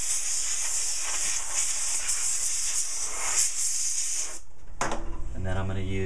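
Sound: drying a dental provisional with air

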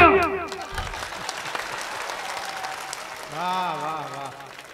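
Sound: audience applause at mushaira

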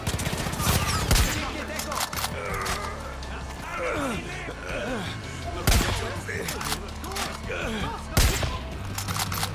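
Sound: gunfire in video game Far Cry 5

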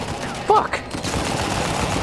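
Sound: gunfire and headshot in Uncharted 4 video game

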